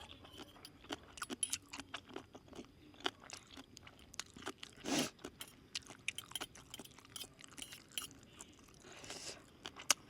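Quail eggs are eaten with spicy Thai papaya salad close to the mic, with soft, irregular crunching, chewing and small clicks. One louder bite stands out midway.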